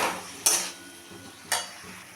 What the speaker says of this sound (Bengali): দিয়ে আরও কিছুক্ষণ আমি কষিয়ে নেব এটাকে।